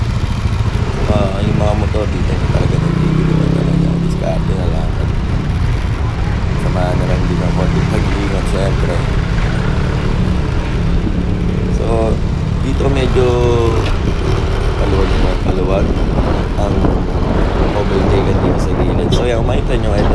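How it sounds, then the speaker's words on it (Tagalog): Motorcycles and cars weave through heavy Manila traffic, producing a constant, loud engine drone and road rumble for the whole stretch, with a person talking over it throughout. "Yung mga motor dito talaga nagbibiluman talaga, diskarte na lang."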